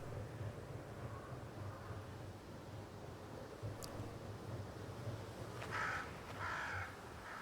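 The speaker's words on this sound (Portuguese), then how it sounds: "Ali o corvo ali gritando, berrando" A crow caws in the snowy wilderness of the video game Banishers: Ghosts of New Eden, giving a couple of harsh calls late on over a faint, steady wind-like ambience.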